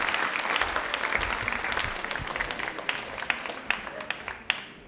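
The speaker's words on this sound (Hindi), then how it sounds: "तालियां प्लीज एक बार जोरदार हो जाए सर के लिए" An audience gives a retired Indian Army artillery colonel a steady round of applause at a quiz event. The clapping is broad and dense, then thins toward the end into a few louder, separate claps.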